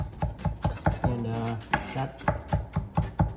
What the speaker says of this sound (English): I'm done chopping these jalapenos